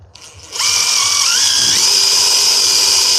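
A power drill backs screws out during haunted house construction work: a loud, steady motor whine starts after a brief pause, climbs in pitch, then holds at full speed to the end.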